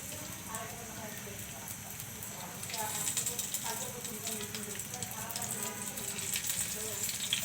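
Tilapia fish fry in mustard oil in a pan, a quiet steady sizzle with fine crackles that grows a little louder partway through.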